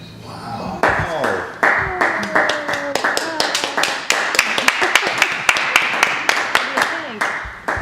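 Live audience at a magic show breaks into clapping, a string of sharp, uneven claps and bursts rising and falling throughout, with people's voices mixed underneath.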